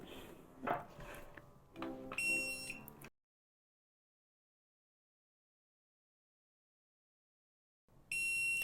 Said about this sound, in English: the controller beeps